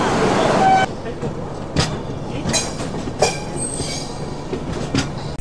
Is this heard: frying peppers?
no